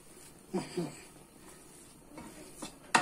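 A masher works boiled potatoes in a pot for vegetarian shepherd's pie, giving a few irregular soft thumps and scraping knocks up close, ending in one sharper clack.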